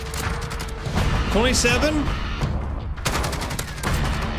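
Rapid automatic AK-47 fire in Call of Duty Modern Warfare, loud and close, running in sustained bursts with brief pauses while a voice speaks briefly over it.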